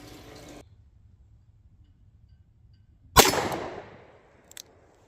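A single sharp report from an S&W 637 Airweight .38 Special snub-nose revolver firing single action at 15 yards, with a loud crack and a short decaying tail, followed about a second later by a faint metallic ding.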